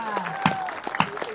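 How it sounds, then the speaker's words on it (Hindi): An audience at a Hindi comedy poetry recital claps in a short, brief burst, with scattered hand claps over a moderately close crowd. "आप लोगों ने जितने मन से तालियां बजाई हैं"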